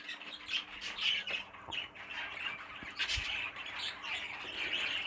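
A young bird about one month old squawks repeatedly in harsh, bursty calls with brief pauses between them, fairly close but not loud.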